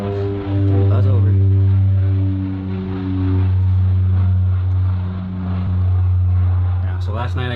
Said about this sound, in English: There's our planes as normal.